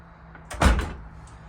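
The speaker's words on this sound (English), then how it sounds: "the door swung pretty slow." A commercial door on an adjustable door closer swings the last stretch and lands shut with a single firm thud, followed by a short settling rattle.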